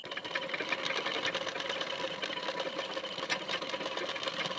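A sewing machine stitches a fabric strip in a steady, fast, even whir of needle strokes, running continuously and close by with no voices.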